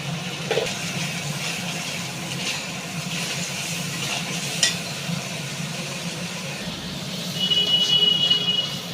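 Spices are stir-fried in a pan for a duck curry, giving a steady low sizzle and a soft scraping stir throughout. Faint clinks and a slightly louder burst of frying come near the end.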